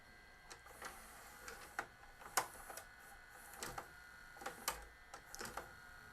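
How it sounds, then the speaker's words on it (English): A Magnavox DV220MW9 VCR/DVD combo takes in a tape, its loading mechanism producing a faint motor whir with scattered clicks and clunks of the transport engaging. "Let's go ahead and pop a tape into it and see if it loads."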